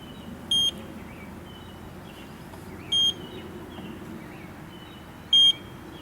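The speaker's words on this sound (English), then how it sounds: "make sure that you use the leak detector in any way possible to make sure we don't have any potential leaks" An E Instruments Model 7899 gas leak detector gives three short, sharp electronic beeps, evenly spaced about two and a half seconds apart, clear over a steady low background hum outdoors near a fuel source.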